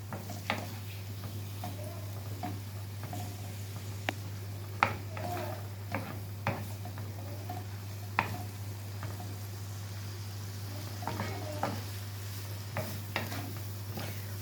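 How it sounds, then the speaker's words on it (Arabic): Cooked herring sautéed in a pan gives a faint, steady sizzle with scattered ticks and scrapes from stirring, over a constant low electrical hum. "احنا بس نديله تشويحة"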